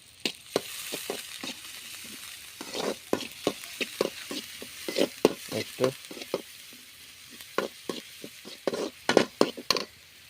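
Onion and garlic sizzle softly in a pan while a utensil stirs and scrapes, producing irregular clicks and brief bursts of frying, close and fairly quiet.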